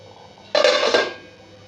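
A lid is set over a pot of chicken marinating before oil-free cooking, a single bright metallic clatter with a short ringing tail, alone and fairly close.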